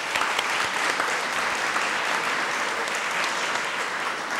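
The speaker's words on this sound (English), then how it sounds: "Let's give them a round of applause." Sustained audience applause at a college day ceremony, a dense even wash of many hands clapping at steady loudness throughout, with no voices standing out.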